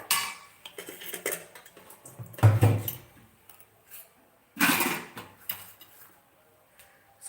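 A fried semolina and coconut ladoo mixture is turned out of the pan onto a plate in a kitchen. Clattering metal scrapes and clinks of pan and spoon come in two sharp bursts, with lighter taps between them.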